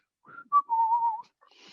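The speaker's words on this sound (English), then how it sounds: "I look at the ceiling and I whistle." A person whistles a short wavering tune, a brief note followed by a longer sustained warbling tone, close and clear in a quiet room.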